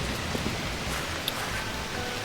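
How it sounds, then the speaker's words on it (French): Steady rain falls over a garden, a dense even hiss with a few scattered drop taps and no other sounds. "Aujourd'hui il pleut."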